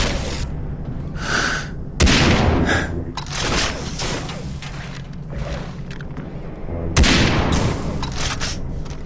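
Repeated heavy booming shots from a phase cannon in Far Cry 3 Blood Dragon, several loud blasts with sharp onsets and rumbling tails amid other game noise.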